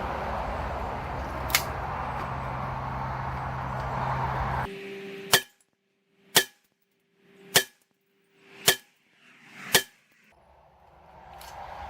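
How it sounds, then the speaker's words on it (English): Five loud, sharp gunshots from an MPX pistol with an 8-inch barrel firing 124 grain rounds, spaced about a second apart, each a crisp crack with a brief ring, following a few seconds of background noise with one faint distant pop. "I saved 10 rounds of the normal 124 grain to shoot again out of the MPX 8-inch"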